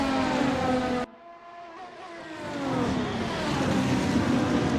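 A race car at Road America drifting through the final corner, its engine note cutting out abruptly and then climbing back up as the car accelerates away under a rising whine.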